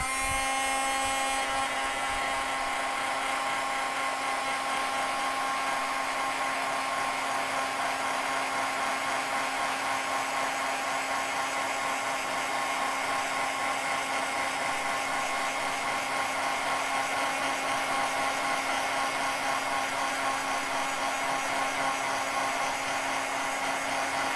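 A heat tool blows steadily on clear embossing powder to melt it, a constant whirring hiss with a fixed motor whine that holds unbroken and loud for the whole stretch, with no talk.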